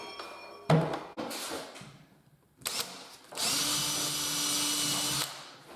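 A power drill whirs in short bursts, then runs steadily for a couple of seconds, close by, with a bump or knock at the start, while fitting a kitchen cabinet end panel.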